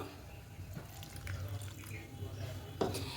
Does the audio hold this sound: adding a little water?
yes